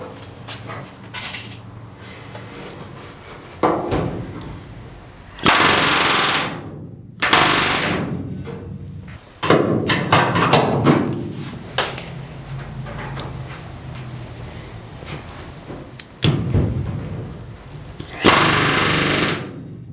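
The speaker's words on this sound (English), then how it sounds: "And with that corner rivet, a second wing is done." Rapid bursts of a pneumatic rivet gun driving rivets into the aluminum wing skin of an RV-7A kit aircraft, loud and close, several separate runs with pauses and small handling clunks between.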